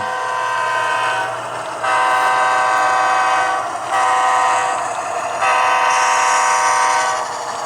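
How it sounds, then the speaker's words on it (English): A model train rumbles steadily around a layout loop with a sustained, chord-like horn tone that swells and fades several times, fairly loud and close, with no voices. "we run the train around through the layout here before it heads off into staging"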